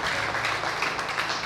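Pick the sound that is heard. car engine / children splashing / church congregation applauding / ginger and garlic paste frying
church congregation applauding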